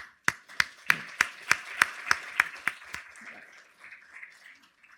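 About ten sharp, evenly spaced hand claps ring out in a quiet conference hall during a welcome address at a family and scientific conference, then give way to faint room noise.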